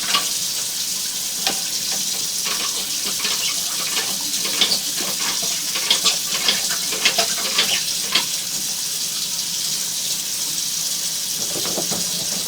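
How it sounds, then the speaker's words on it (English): Water running from a sink during a sewer inspection at a house, a steady hissing rush that holds evenly throughout with scattered small splashes and drips on top, and no voices. "So we have the sink water running and the toilet finished flushing."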